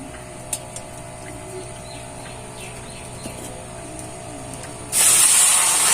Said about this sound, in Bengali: এই বাটি মেপে 1 বাটি জল দেব